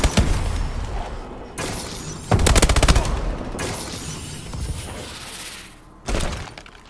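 Bursts of rapid automatic gunfire from a weapon in the Advanced Warfare video game, loud and close, come in several separate volleys with short gaps between them.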